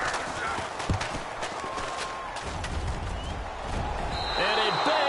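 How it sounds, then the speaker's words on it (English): A football kick strikes the left upright of the goal post with a single sharp thud early on, heard under an announcer's commentary and the murmur of a stadium crowd. "it bangs off the left upright and deflects away"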